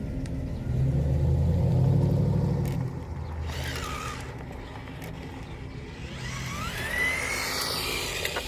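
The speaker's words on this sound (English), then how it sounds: "A little more traffic than usual." A car passes on a quiet road, a low rumbling engine swelling near and then fading, followed by softer passing traffic noise and a distant higher whine toward the end.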